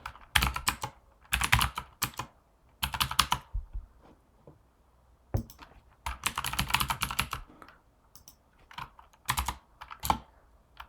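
Rapid bursts of typing and clicking on a computer keyboard, close and crisp, separated by short quiet pauses, with no talking.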